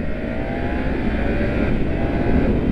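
Triumph 900 GT Pro three-cylinder motorcycle accelerating hard, a loud steady engine roar with rising harmonic tones under heavy wind noise, continuous throughout.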